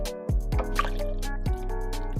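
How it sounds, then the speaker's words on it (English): Water poured into a blender holding soaked cashews for vegan cheese curds: several distinct plopping splashes and trickling fill sounds, close and clear, with no talk over them. "So put the rest of the water in."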